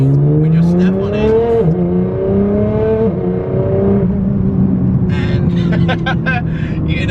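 A 900 hp Nissan GT-R accelerating hard, its engine note climbing in loud sustained revs with a brief dip and rise again, while someone talks over it throughout.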